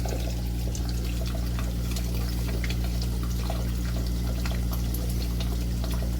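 Water gushes steadily from an electric hot water heater tank being rebuilt, a loud continuous pouring and splashing that never lets up, close up and with no talking.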